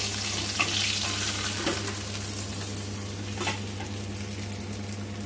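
Fish pieces fry in hot oil with a constant, close, dense sizzle and occasional soft stirring or lifting sounds, with no voices.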